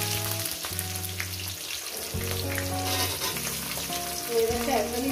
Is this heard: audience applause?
no